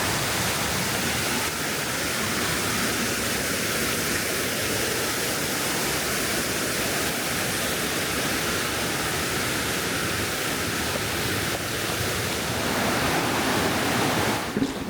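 Mountain valley stream rushing beneath a steel deck trail, a steady, dense roar of flowing water that holds close and loud without a break.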